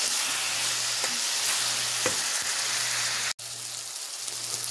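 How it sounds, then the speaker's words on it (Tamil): Ripe tomatoes sauté in a pan with a steady, even frying hiss and scattered small pops, close and moderately loud, cut by a momentary dropout near the end before the sizzle resumes. "தக்காளியை ஃபுல்லாக போட்டுட்டு அதை ஃபுல்லாக நல்லா வதக்குங்க"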